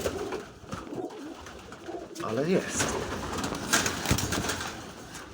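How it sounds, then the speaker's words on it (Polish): Pigeons coo softly in low, rolling calls while someone speaks briefly in Polish nearby, with rustling and background noise throughout, in winter snow. "Tu takie gołębie się biorą."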